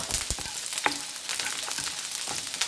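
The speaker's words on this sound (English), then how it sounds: "I'm going to do the chilies first. Fry them off." Chilies frying in a pan with garlic, a steady close sizzle broken by a few sharp spatters and stirring scrapes, no voices.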